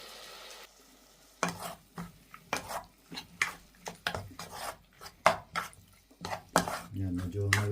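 Meat sautéing in a pan for a Filipino pinapaitan dish: intermittent scraping and clattering strokes of a utensil stirring, with soft sizzling beneath, fairly close and irregular, and a voice talking near the end.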